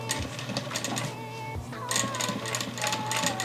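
Vevor industrial sewing machine stitching fabric for baby bloomers, a steady close mechanical whir and needle rattle running continuously throughout, with no talk.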